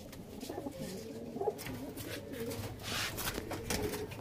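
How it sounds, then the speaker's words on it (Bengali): Pigeons coo softly in a loft, with repeated low throaty calls at a moderate distance and faint rustling between them. "বন্ধুরা এই পায়রাগুলো দেখো,"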